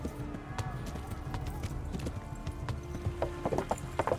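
Rhythmic clip-clop of a horse's hooves at a steady gallop in the video game Kingdom Come: Deliverance, close and continuous, with a voice talking over the hoofbeats.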